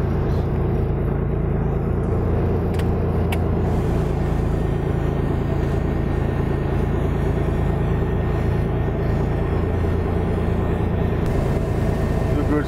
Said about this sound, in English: captain is taxiing